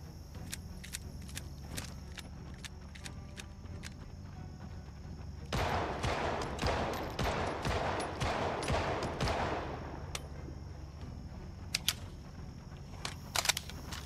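Single-shot fire from an MP5 in Project Zomboid: a run of separate, evenly spaced shots sits over a steady background bed, followed by a denser cluster of loud cracks in the middle and a few sharp reports near the end.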